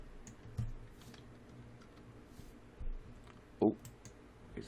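A computer mouse gives a few sparse, quiet clicks spread over several seconds against faint room noise.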